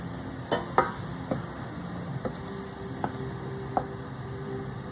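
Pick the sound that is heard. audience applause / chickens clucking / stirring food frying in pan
stirring food frying in pan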